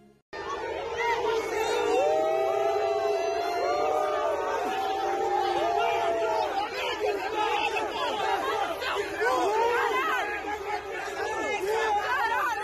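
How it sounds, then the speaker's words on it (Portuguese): A crowd boos São Paulo football player Igor Gomes as he arrives in Cuiabá. Loud shouting voices and chatter carry on without a break, near and dense throughout. "chegou no fim desta tarde com muitas vaias para Igor Gomes"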